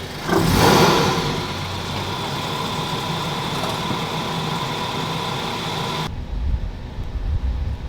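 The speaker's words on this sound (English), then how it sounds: "when the car is warm and it's idling down at regular speeds, it becomes very quiet" Toyota GT86 (Subaru BRZ) engine running warm with a steady, fairly loud hum and a brief swell near the start, then settling toward a quieter idle; no talking.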